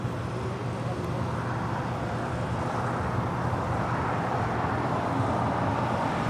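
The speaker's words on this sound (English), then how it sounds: "Next arrival is Norris, flight 711, coming in from London Gatwick on a 787-9 Dreamliner." A Boeing 787-9 Dreamliner arrives at LAX, coming in to land on runway 25 left, heard as a steady broadband jet roar that holds loud and even throughout with some low traffic rumble beneath.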